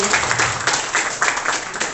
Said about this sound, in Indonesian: Luar biasa, tepuk tangan untuk AFC.